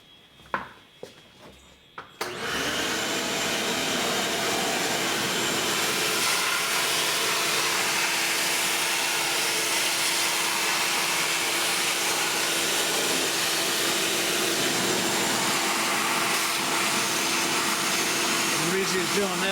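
A shop vacuum starts after a few faint clunks, then roars steadily and loud with a constant whine as it sucks up metal drilling chips at a cylinder head on a Chevy inline-six engine.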